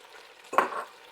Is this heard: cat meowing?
no